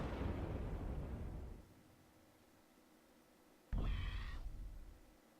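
Explosions in the video game A.R.E.S Extinction Agenda as a boss is defeated: a heavy rumbling blast that fades out, a short lull, then a second sharp booming burst with a ringing electronic tone.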